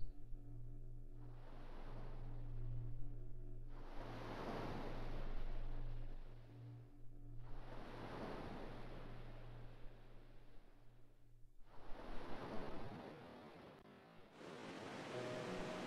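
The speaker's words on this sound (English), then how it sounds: "Can you hear the sea?" Sea waves in the video game Final Fantasy X, a steady surf wash that swells and recedes in four broad surges over a low constant hum, with no talking.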